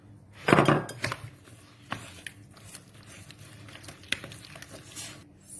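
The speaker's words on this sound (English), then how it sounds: "I'm going to add in 1 egg at a time, and I'm going to mix it well." Eggs are beaten one at a time into eclair choux dough in a pot, giving soft sticky slaps and a few spoon clinks against the pan, moderately close and irregular, with no talking.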